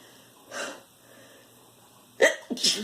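A soft breathy intake, a pause, then a sharp explosive sneeze burst with a quick follow-on, fairly close.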